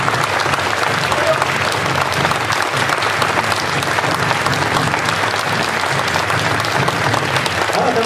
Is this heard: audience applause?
yes